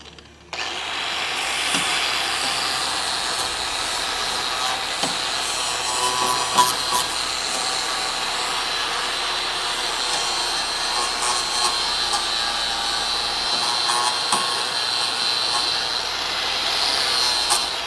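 A flap disc on an angle grinder scours rusty sheet metal on an old Dodge Charger crew cab, a steady, loud abrasive whine and rasp running continuously after a short start, with no talk.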